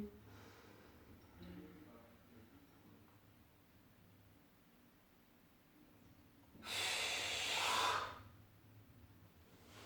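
Deep breathing during a guided body-awakening exercise: a single loud, broad exhale or inhale rushes through late in the clip after a long quiet stretch with faint background murmur.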